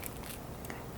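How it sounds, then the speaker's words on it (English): Knife cutting through the crunchy crust of freshly baked Tartine sourdough bread, a faint close crackling and scraping texture lasting about a second. "You've got this perfect crunching sound."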